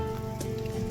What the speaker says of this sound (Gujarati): વરસાદ હમણાં આવ્યો